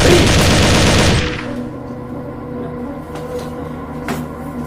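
A volley of gunfire, shot on command in a staged school drama about the G30S PKI events. A dense, loud burst lasts just over a second, then drops to quiet room noise with a few faint knocks.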